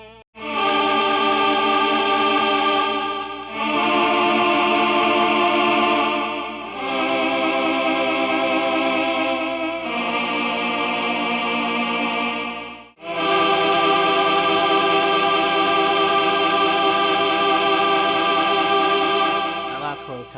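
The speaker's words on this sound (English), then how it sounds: "It's from Metroid Prime 2 Echoes for GameCube, and it's the title scene, the title track" Metroid Prime 2 Echoes title theme for GameCube plays through an Electro-Harmonix Mel 9 tape replay pedal as sustained, layered synthetic tones with chorus-like shimmer, in several long phrases split by brief gaps, loud and with no talking.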